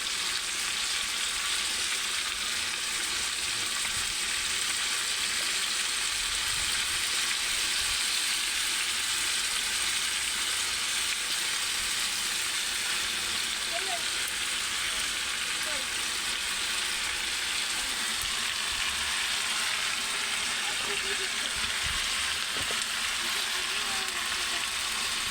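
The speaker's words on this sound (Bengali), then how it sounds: "দেখতে পাচ্ছ আমি এর মধ্যে ঝিঙেটা দিয়ে দিচ্ছি ভালো করে গাইস" Ridge gourd and potatoes fry in a pan with a loud, steady, close sizzle that hisses on without a break, with a few faint stirring scrapes underneath.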